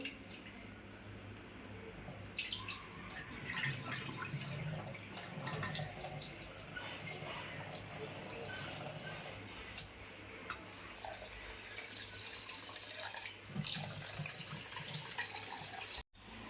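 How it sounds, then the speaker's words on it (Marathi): Running water from a tap splashes into a vessel while rice is swished and rinsed by hand, close and continuous. "तांदूळ धुवून घेते दोन तीन पाण्याने"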